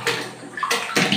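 Water is flushed into a clogged lower water tank, making close, loud gushing splashes in three short bursts with brief lulls between them.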